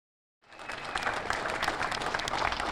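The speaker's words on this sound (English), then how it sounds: "A round of applause for Officer James Santana as he made his way out of the hospital this afternoon" Crowd applause outside a hospital greeting a police officer as he leaves, starting abruptly after a moment of silence and continuing as a dense, steady round of clapping.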